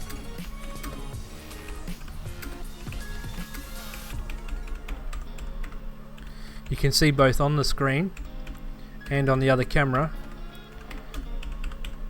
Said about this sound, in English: It's a nice clicky noise, very responsive, so we'll see if you can hear this.